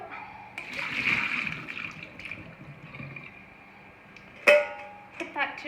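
Tap water rinsing the cut ends of asparagus in a kitchen sink, a steady close splashing flow with a brief louder gush near the end.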